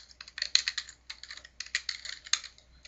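Someone types a password on a computer keyboard, quick irregular bursts of close, crisp key clicks with short pauses between groups.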